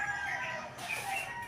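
Farmyard chickens clucking with a rooster crowing, a steady chorus of fowl calls at moderate distance, no talk over it.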